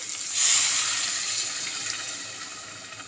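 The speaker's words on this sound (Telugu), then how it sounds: "ఈ లోటా నిండా బియ్యం అండి దీంతో వాటర్ పోస్తున్నాను" Water poured from a lota onto rice for veg biryani, a short splashing gush that swells quickly near the start and then trails off into a softer trickle, with no speech.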